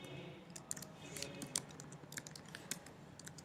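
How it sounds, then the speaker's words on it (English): Quiet, rapid clicks of keys being typed on a computer keyboard, an uneven patter of taps in a hushed room. "So I am just typing in the credentials offered to me."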